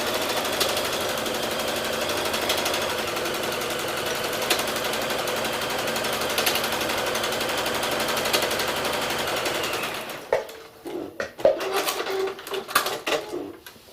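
A sewing machine stitching a fabric pocket organizer with a rubber liner runs in a steady, continuous mechanical whir for about ten seconds, then stops, leaving a few scattered clicks and handling noises.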